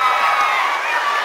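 Crowd at a high school basketball game between Boiling Springs and Greencastle, a steady roar of cheering and shouting filling the gym, fairly loud and continuous.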